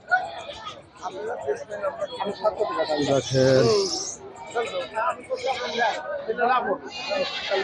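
Large goats at a crowded livestock market, several loud nearby bleats and calls overlapping amid a busy babble of people talking.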